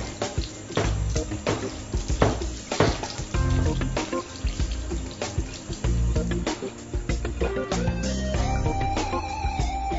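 A Hansgrohe hand shower head is rinsed with clear water after descaling, giving a steady, close rush of running water that splashes continuously for about ten seconds with no voices.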